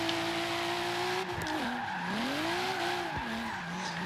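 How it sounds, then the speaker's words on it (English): Tires squeal in a long, wavering howl as a game car drifts through a drift event layout, pitch bending up and down with the slide over a steady engine drone, loud and close throughout. "Make a giant drift"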